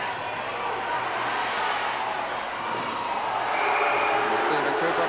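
Home crowd at a Durham Wasps ice hockey league game against Fife Flyers, a steady, dense arena roar of many voices with a murmur swelling slightly toward the end, no distinct cheer burst.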